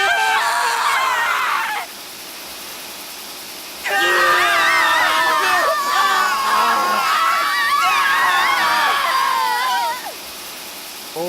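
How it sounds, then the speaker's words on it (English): Characters in the video game Zero Time Dilemma scream in loud, overlapping high-pitched wails, a brief burst, a pause, then a longer sustained chorus of shrieks. "Always a treat to hear them scream."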